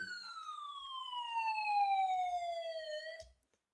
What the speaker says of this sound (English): Let's sound the siren.